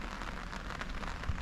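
Hail falling around an angler's spot at a lake, a continuous dense patter and hiss of small impacts on surfaces, moderately loud and close, with no voices.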